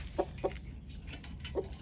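A rooster clucks in a few short bursts, calling hens over to eat watermelon rind at a rural backyard coop, the calls spaced apart and fairly close.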